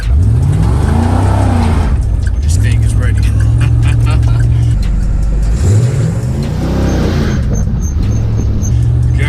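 A 1992 Chevrolet Camaro Z28 engine revs and accelerates loudly from a stop sign in repeated rising surges, with someone talking over it throughout.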